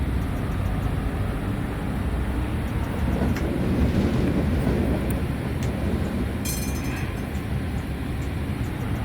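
A tram rolls along in the SIMT tram simulator game, a steady broadband rumble of wheels and motor with faint squeals and clicks, continuous and fairly loud, with no voices.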